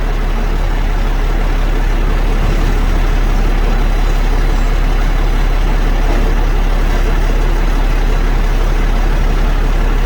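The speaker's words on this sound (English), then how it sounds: "Trash truck on fire." A garbage truck's engine rumbles loudly and continuously while the truck is on fire, a heavy, dense roar with a deep low hum that never lets up across the whole stretch.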